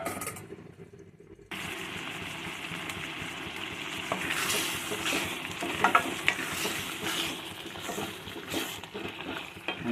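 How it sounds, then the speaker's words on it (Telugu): Gongura meal maker curry bubbling and frying in a pan, a near, steady sizzle that starts abruptly after a short quiet moment, with scraping and clattering of a spoon as it is stirred. "ఇది మొత్తం కలిసిందండి. ఇలా 2 నిమిషాలు ఉడికించుకుందాం."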